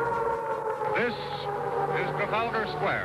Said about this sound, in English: The noise that you hear at the moment is the sound of the air raid sirens.